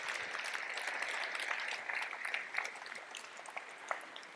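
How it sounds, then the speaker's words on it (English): Steady applause from a conference audience at an official opening, dense clapping that holds at an even level throughout with a few sharper individual claps standing out. "A big round of applause."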